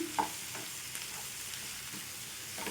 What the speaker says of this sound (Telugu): ఈ మొత్తం కూడా మంచిగా కలిపేసుకొని మూత పెట్టేసుకుందాం